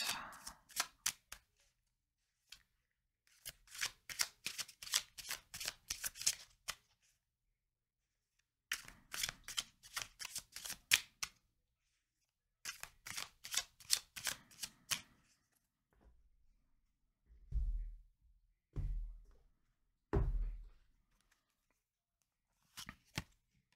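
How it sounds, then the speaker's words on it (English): Tarot cards are shuffled up close in several quick riffling bursts, separated by pauses, followed near the end by a few soft, low thumps as the deck is handled or set down. "let's get a couple tarot cards to finish this off."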